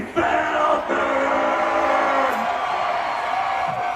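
A man's raw, sustained scream rings out over a noisy crowd, lasting a couple of seconds before trailing off into the din.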